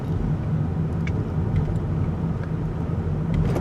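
A 2023 VW Jetta 1.5T SEL creeping over a mild speed hump at about 15 to 20 mph, heard from inside as a steady low road rumble and engine drone with faint soft knocks, no distinct impact.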